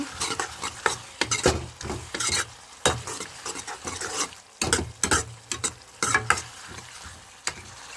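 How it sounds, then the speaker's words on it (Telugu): Tomatoes with salt and turmeric are stirred in a sizzling pan, with repeated close scraping strokes of a spatula in an uneven rhythm over a low frying hiss, no speech. "సాల్ట్ వేసుకున్నాం కదా పసుపు పసుపు ఇవన్నీ వేసుకొని కలిపేసేసుకోవాలి"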